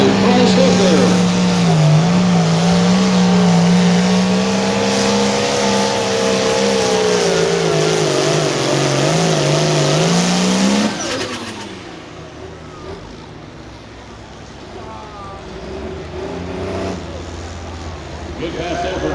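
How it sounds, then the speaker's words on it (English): Loud, strained engine roar of a pulling tractor in the 8,500 lb class at a tractor pull in Mound City, Missouri, rising and wavering in pitch for several seconds, then cutting away to a quieter distant rumble with crowd noise. "David Dougherty, this is the next tractor up, the high price hooker."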